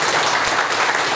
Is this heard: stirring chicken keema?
no